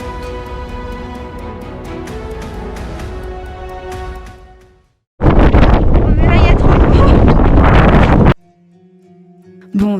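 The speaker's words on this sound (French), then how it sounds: "Il y a beaucoup de vent" Strong gusting wind buffets the microphone on a Mount Fuji descent, a loud roaring rush that comes and goes, dropping out briefly between heavy blasts, with faint voices in the background.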